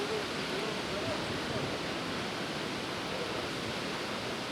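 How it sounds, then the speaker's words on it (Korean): Dense, steady roar of Shōmyō Falls in Toyama, Japan, dropping 350 m, fills the space evenly, a constant broadband rush with no breaks, heard nearby. "350m 낙차로 떨어지는 물소리가 연불외는 소리로 들린다"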